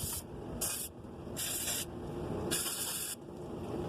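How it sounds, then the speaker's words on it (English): Several short hissing bursts of PB Blaster penetrating oil spray onto bolts on a BMW N54 downpipe, each squirt lasting about half a second, close up over a quiet hum. "start spraying these bolts with some PB Blaster, which is a lot better than WD-40."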